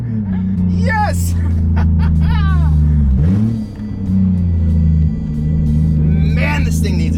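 Turbocharged Toyota Supra engine idling and revving with a loud, droning exhaust rumble and a brief dip in revs, while people talk and whoop excitedly over it.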